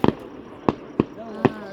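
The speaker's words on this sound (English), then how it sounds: "This is the best fireworks show ever." Fireworks show bursting overhead, four sharp booming explosions spaced irregularly, loud and close, with people talking excitedly underneath.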